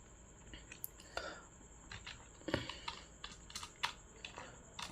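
Someone types on a computer keyboard while entering text in an MS Word document, with quick irregular key clicks and a few louder taps, close and fairly quiet, with no voices.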